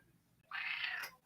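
A pet cat gives one clear meow, drawn out for about half a second, close but soft in a quiet room.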